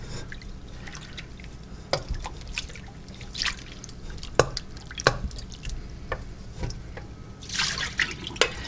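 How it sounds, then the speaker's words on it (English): Homemade butter folded and pushed by hand, its water squeezed out in soft, wet squishes and small drips, faint and close, with irregular clicks and squelches scattered throughout. "You can push it and squeeze the water through the butter."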